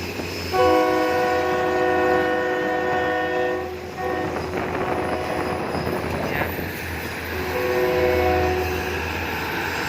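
A Thai diesel railcar train pulls out of Ban Phachi Junction station on the Bangkok–Taphan Hin service, its horn sounding long sustained tones over a rumbling engine and rolling wheels, with the horn returning near the end.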